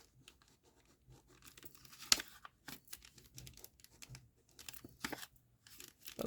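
Scissors cut and tear through thin cardboard from a spaghetti box, giving quiet, close snips and crinkly tearing in short irregular bursts with brief pauses between them.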